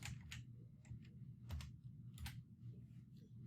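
Quiet, close keystrokes tap on a computer keyboard in short irregular bursts, a few clustered clicks at a time with brief pauses between them.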